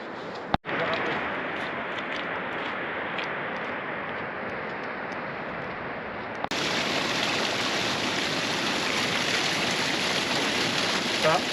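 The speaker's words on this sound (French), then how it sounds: "Alors Thierry est en train de prendre de l'eau dans un ruisseau, l'eau très pure." A mountain stream rushes steadily near a waterfall in the Colca Canyon of Peru, a dense continuous watery roar that jumps louder partway through, with a brief knock near the start.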